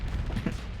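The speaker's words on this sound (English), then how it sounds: "Boom! Explosions! That ship has guns!" Weapon fire and explosions from a Starsector space battle, a brief burst of rumbling, booming blasts that stays dense and loud for under a second, with no voices.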